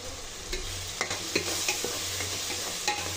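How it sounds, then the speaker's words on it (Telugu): Tomatoes cooking down in a pan for chicken dum biryani are stirred with a spoon, producing a few distinct scraping knocks over a steady low sizzle and hum, close and moderately quiet, with no talking. "టమాటాలంతా ఒకసారి కలుపుకుందామండి"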